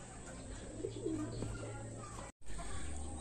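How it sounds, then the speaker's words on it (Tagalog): Racing pigeons arriving at the loft after a race toss from Dalton give soft, low cooing. The calls are short and faint over steady background hiss. "Ayan na nga mga kalapatids"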